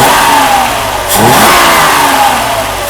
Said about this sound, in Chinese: 提速非常的顺畅